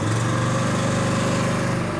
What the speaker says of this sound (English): Now I'm going to push a little bit the gas up.